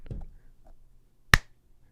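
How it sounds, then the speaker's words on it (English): A single sharp hand clap, given as a sync marker for recording, cracks out once in an otherwise quiet room, loud and isolated after a few faint, soft sounds. "Just throw a clap in so we can see that."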